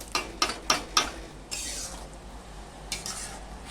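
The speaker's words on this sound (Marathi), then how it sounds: "पूर्ण असं हलवून घ्यायचं" A spoon stirring carrot halwa with milk and sugar in a pan over a high flame, several sharp scraping taps against the metal at the start, then a softer swish and a faint sizzle.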